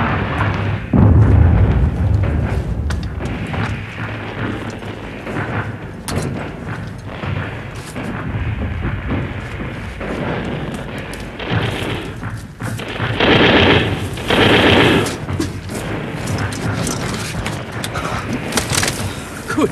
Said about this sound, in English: Our own fellows firing on us now.